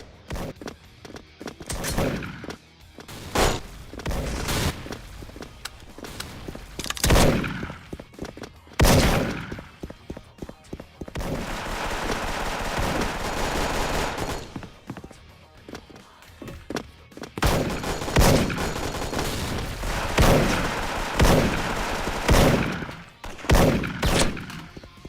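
Rapid bursts of gunfire in a shooter video game, loud bursts and volleys coming in clusters, broken by quieter gaps and stretches of steady noise, with no talk.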